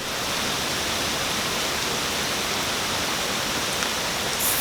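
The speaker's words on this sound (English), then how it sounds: "So here I am, standing in the rain with you" Steady rain falls outdoors in a continuous, dense hiss with no breaks, loud and close throughout, with no voices heard.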